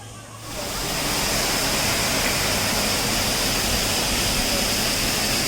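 A private waterfall right beside a resort roars steadily, a dense broadband rush of falling water that swells in within the first half second and then holds loud and constant, with no voices over it.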